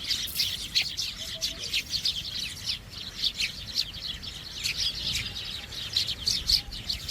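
Small birds chirp and tweet repeatedly in quick bursts, fairly close and steady over a soft outdoor background.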